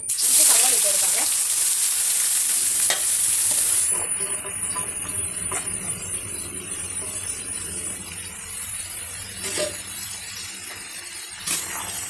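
Ingredients sauté in hot oil for a spice-free biryani, with a close, continuous sizzling hiss and scattered clinks of a utensil against the pan. The hiss is fiercest at first and settles lower as stirring goes on.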